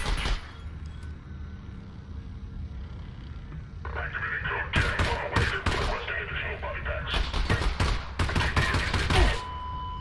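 Enemy gunfire in Half-Life: Alyx crackles in rapid, loud bursts that build and cluster toward the end, over a low background with some voice-like sound.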